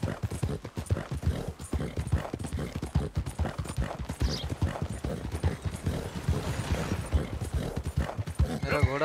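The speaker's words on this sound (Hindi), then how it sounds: "मेरा घोड़ा अच्छा खासा रेस्ट ले चुका है, सो अभी मैं इसको भगा सकता हूँ." A horse gallops in Red Dead Redemption 2, with rapid rhythmic hoofbeats pounding steadily and close throughout. Someone talks over it.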